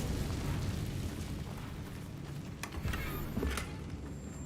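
In Hogwarts Legacy, an Incendio fire spell erupts in a steady roaring burst of flame with a couple of sharp crackles near the end, moderately loud with no speech.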